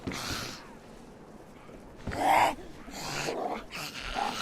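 Guard dogs in the video game DayZ, giving short snorts, whimpers and low growls in a few brief bursts, loudest in the middle, against a steady game background.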